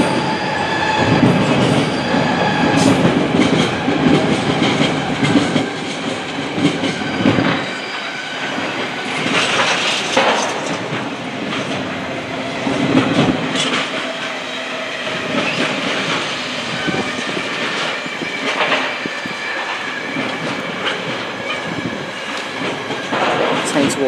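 Class 66 locomotive 66744 hauls a train past at Willesden Junction, a loud, steady rumble of wagons with rhythmic clickety-clack and wheel squeal close by.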